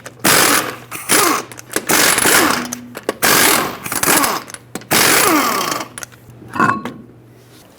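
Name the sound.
socket wrench removing lug nuts from Hyundai Accent wheel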